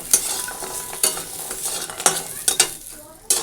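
Bori lentil dumplings fry in oil in a wok, sizzling softly underneath while a utensil stirs and scrapes the pan in several sharp, uneven clatters, close by.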